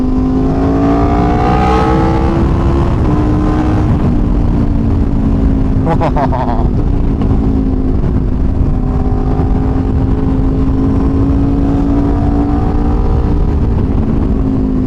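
An Aprilia RSV4 Factory 1000cc superbike engine roars loud and steady under wind rush as it pulls through the revs, with its pitch rising and falling across gear changes.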